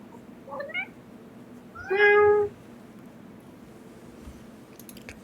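A cat meows nearby: two small, soft meows come first, followed by a louder, longer meow. Quiet room noise fills the gaps, and a faint rustle is heard at the end.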